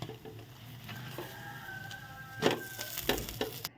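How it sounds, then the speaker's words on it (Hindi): Paratha frying in a pan, a low crackling sizzle with scattered pops and scraping stirs, a few louder clatters toward the end, near and fairly quiet. "तो मैं सारे पराठे इसी तरह फ्राई करूँगी"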